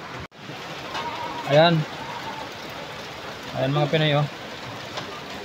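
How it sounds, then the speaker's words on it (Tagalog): Steady heavy rain hisses continuously outdoors while someone speaks briefly over it at two points. "Ang lakas na ng ulan."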